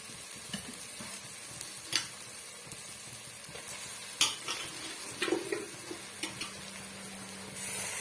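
Chicken pieces hit biryani masala in a pressure cooker and are stirred, with a steady sizzle under irregular scrapes and clinks of a spoon against the metal pot, close and clear with no talk.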